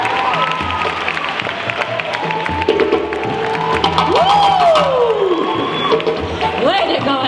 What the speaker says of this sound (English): Please give a round of applause to my beautiful, beautiful, amazing Edna.